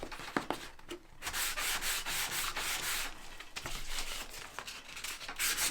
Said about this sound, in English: I should have got a little heavier grit sandpaper out. I thought the sanding block was going to work.